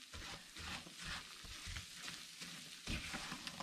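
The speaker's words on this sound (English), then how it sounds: "And you just keep stirring." Pecans are stirred in melting sugar with salt in a pan, giving a steady close sizzle with soft repeated scrapes of the spoon, and no voices.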